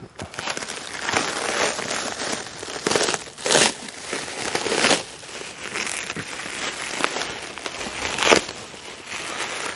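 A package holding 950 tree saplings is cut and torn open, giving close crinkling and crackling plastic with scattered sharp rips and rustles over about ten seconds, and no voices.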